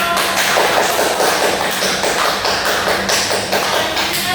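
Elementary school classroom applause for a student group, a dense patter of many small hands clapping steadily throughout, fairly close and loud.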